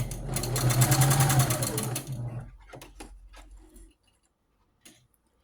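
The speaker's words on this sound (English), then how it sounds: "I just want to test right here to make sure that my machine is properly threaded." A sewing machine test-stitches near the start of threading a topstitch needle for a pink rag quilt, running rapidly for about two seconds, then slowing to a few clunks and clicks before stopping.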